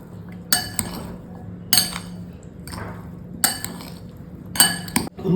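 Wheat rava salad is tossed together in a bowl, with bursts of metal spoon clinking and scraping against the bowl at irregular intervals and quieter gaps between them.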